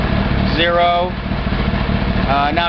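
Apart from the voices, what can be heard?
Honda 1000RR motorcycle engine idling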